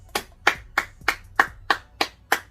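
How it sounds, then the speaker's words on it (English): Eight slow, evenly spaced handclaps at a Juneteenth gathering, each sharp and close, with short gaps of near quiet between them, like a single person or small group clapping a steady beat. "Clap it up, man."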